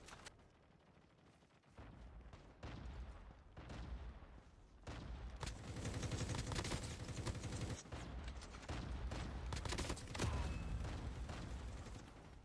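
Gunfire in a Call of Duty match on the Alcatraz map, a dense fusillade of shots and mechanical clatter building from sparse bursts to a loud, sustained barrage throughout.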